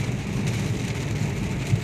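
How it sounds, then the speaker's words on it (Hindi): Heavy rain pours down in a steady, dense hiss with a low rushing rumble underneath, continuous and fairly close for the whole short stretch with no voices. "और बारिश बहुत तेज़ है"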